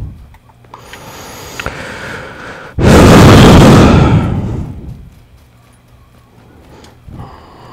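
A single loud, close burst of video game gunfire erupts and decays over about two seconds, standing out against a quieter, rustling background.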